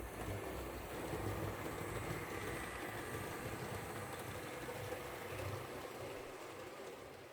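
A small HO scale 0-6-0 model train engine pulling a short freight train hums and rumbles steadily along the track, a continuous low whir with no talking.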